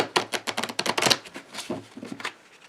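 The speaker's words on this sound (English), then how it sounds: "Let's shuffle the Lenormand." A quick run of crisp, rapid riffling snaps from a Lenormand card deck up close, then a few slower slaps as the deck settles.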